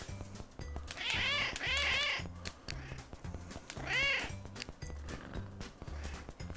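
Cats in the video game CatNab let out high, wavering meows, two close together early on and another a little later, over a steady thumping game beat.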